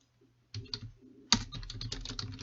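Quick, close typing on a computer keyboard during a physics lecture, a few soft taps first, then a denser burst of rapid keystrokes with no talking.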